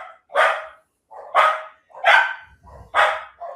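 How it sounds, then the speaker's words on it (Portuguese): A small dog shut inside a bedroom barks four times in a steady rhythm, each bark loud and close with short gaps between, and a soft low thump comes near the end. "Deixaram o cachorrinho preso aqui no quarto?"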